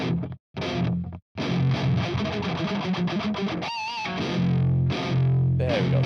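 Heavily distorted electric guitar chugs through a 5150 amp on the high-gain red channel, thick and saturated, with brief gaps and a squealing harmonic near the middle.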